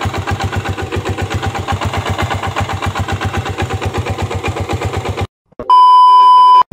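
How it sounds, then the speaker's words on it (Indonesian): A motorcycle engine with a fault idles with a loud, rhythmic knocking chug like a diesel tractor, then cuts off and a steady electronic beep follows. "Kayak diesel traktor itu ya suaranya"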